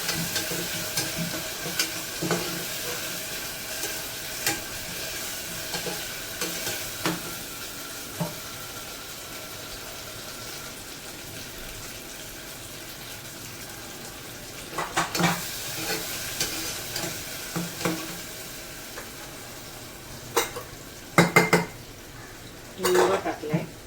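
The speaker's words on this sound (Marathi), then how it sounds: "एक टॅमॅटो घेतला, तो पण व्यवस्थित तेलात परतून घ्यायचे आपण" Onion, ginger-garlic paste and tomato sautéing in oil in a home kitchen, a soft, steady sizzle with frequent clinks and scrapes of a spoon against the pan, plus a few sharper metallic knocks toward the end.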